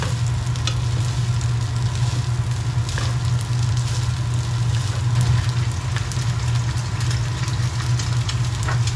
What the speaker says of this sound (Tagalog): Kailangan ko munang haluin ng aking fried rice.